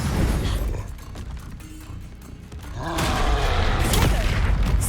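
A Confringo fire spell blasts in Hogwarts Legacy amid battle sounds: a loud booming burst swells after a quieter stretch, with continuous rumbling combat noise around it.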